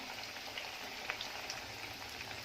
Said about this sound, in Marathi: आणि तेलामध्ये वडे सोडल्यानंतर गॅसचा फ्लेम स्लोच करायचा आहे आणि स्लो फ्लेमवर सावकाश तळून द्यायचे आहेत